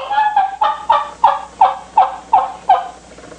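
A tube turkey call sounds a run of eight sharp, evenly spaced, nasal yelps imitating a turkey hen, loud and close with no talk over them.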